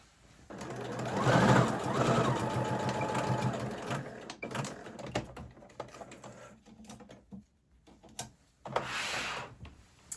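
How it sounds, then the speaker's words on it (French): Sewing machine stitching a seam in fleece runs in steady bursts, loud and close, with rapid needle chatter that slows and stops near the end before a short final run. "je vais tout de suite venir faire une petite couture là à 1 cm"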